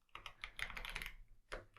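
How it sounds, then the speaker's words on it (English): Quick typing on a computer keyboard, a close, quiet flurry of crisp key clicks followed by a short pause and a final couple of taps. "And then we're going to type in blue."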